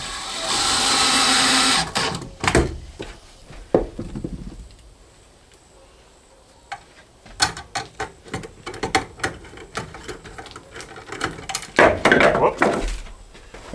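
A 5/16 hex bit driver turns ground screws into metal electrical boxes during a salvaged mobile home rebuild, giving close, irregular bursts of ratcheting, clicking and scraping with pauses between turns.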